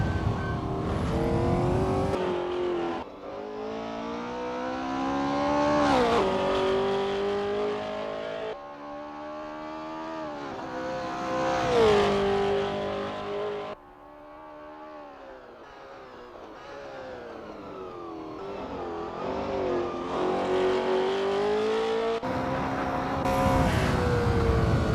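Porsche 908 LH race car in the Assetto Corsa racing game at the 1960s Longford circuit, its engine loudly revving and climbing through repeated gear changes for a sustained run, with no voices.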